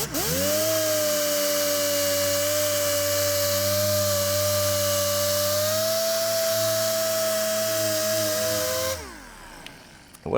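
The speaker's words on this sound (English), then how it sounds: "let's get moving on to our finish polishing process" A polishing machine runs on the tail lights of a BMW E39 M5, holding a steady high-pitched whine with a strong motor hum, then spins down and stops near the end, followed by a brief faint knock.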